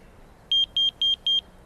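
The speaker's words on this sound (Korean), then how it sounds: "2년 만에 울리는 삐삐" A pager in a film scene beeps in four quick double-pulse bursts, sharp, high and electronic over a faint background hiss.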